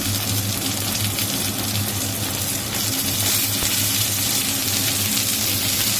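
Diced onions fry in a pan with a steady, moderate sizzling hiss and no voices.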